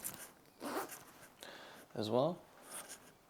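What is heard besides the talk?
double zipper on black jacket being zipped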